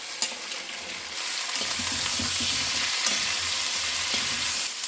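Potatoes frying in oil with cauliflower, carrots and beans added, a vegetable mix for a restaurant-style Diwani Handi; a steady close sizzle with scraping stirs and clinks throughout, no talking.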